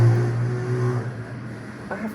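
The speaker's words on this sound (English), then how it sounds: "I think they're mixing cement." A low, steady mechanical drone of cement being mixed outside hums through a wall, muffled and continuous, fading slightly partway through.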